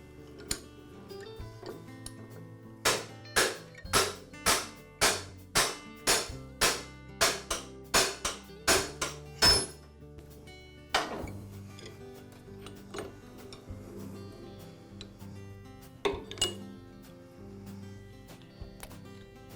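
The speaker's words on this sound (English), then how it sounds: "Now I'll place the shaft in my bearing press and first remove the collar." A rapid run of sharp metallic clanks and taps rings out as a collar is pressed off a tile saw blade shaft in a bearing press, followed by a few scattered knocks and clinks.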